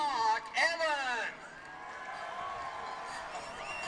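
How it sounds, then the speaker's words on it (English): A crowd at the Australia vs Japan first test match in Sydney cheers for hometown player Mark Evans. An announcer's voice comes first, then a broad, sustained roar of cheering carries steadily to the end. "Big cheer for Mark Evans, hometown boy"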